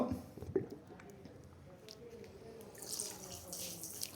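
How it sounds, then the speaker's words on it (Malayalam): Tap water runs into a plastic bottle for a spinning-bottle physics demonstration, with a gurgling, splashy stream that swells louder toward the end and a faint voice in the background. "വെള്ളം നിറയ്ക്കുന്നു,"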